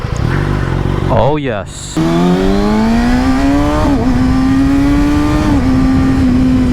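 A 600 class sportbike engine revs loud and close with a high, rising wail after a brief blip, then holds a steady, climbing note through the rest. A voice speaks briefly near the start.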